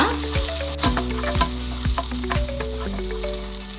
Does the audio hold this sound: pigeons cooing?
no